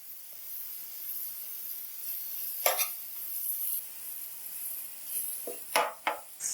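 Carrot halwa being stirred and roasted in a pan with added paneer, giving a faint steady sizzle with a few scraping spoon strokes near the middle and end.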